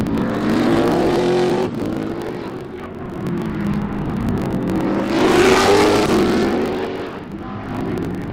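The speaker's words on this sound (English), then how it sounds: "These are the loudest race cars out of all." SCCA race car engines at Sebring roar past in waves, rising and fading as cars pass at a distance, with a loud surge near the middle.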